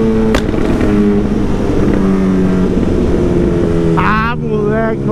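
A chrome-modified Honda CB 1000R motorcycle engine idles with a throaty exhaust burble, revving up sharply in quick bursts, close and loud.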